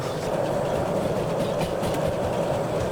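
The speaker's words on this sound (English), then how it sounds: "That was the train brake I accidentally activated." A steam train hauling a heavy load out of a harbor in the Derail Valley game rumbles and rattles continuously on the rails, steady and close, with no talking, as its brake is accidentally engaged.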